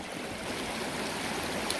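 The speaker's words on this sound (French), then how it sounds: "simplement entendre le bruit des ruisseaux" A babbling mountain stream flows in a steady, unbroken rush of water, close and even throughout, with no voices.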